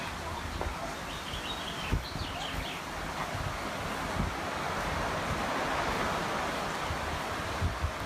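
Ocean surf washes onto a beach at Kihei, Maui, as a steady broadband roar mixed with wind buffeting the microphone and faint birds. The sound is continuous and moderately loud.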